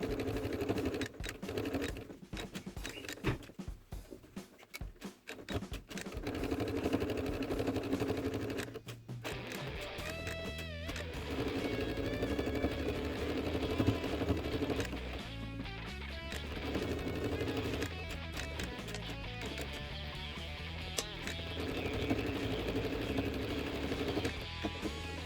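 Domestic sewing machine topstitching a seam with half-centimetre margin around a fabric pad holder, a fast mechanical rattle of needle strokes in sustained runs with brief stops, close and steady.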